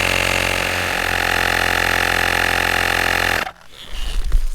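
An Auxito battery-powered pump inflates a skinny 21-inch bicycle tyre with a loud, steady motor drone that runs close by and then cuts off abruptly, followed by faint handling sounds.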